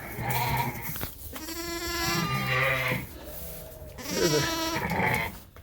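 Several loud, wavering sheep bleats close by on a sheep farm as a ewe is brought into a pen, coming in separate calls with short pauses between them, with faint background noise and no talking.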